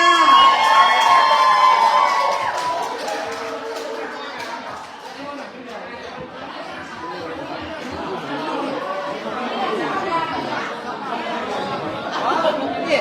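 A concert audience in Australia claps and cheers loudly for a Thai performer, a dense roar of applause with whoops and crowd chatter that eases slightly midway before swelling again.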